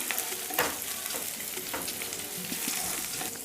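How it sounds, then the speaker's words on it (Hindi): Steady crackling sizzle of ginger and garlic frying in oil, with occasional louder pops and light stirring scrapes. "अदरक और लहसुन को हम अच्छे से भून लेंगे।"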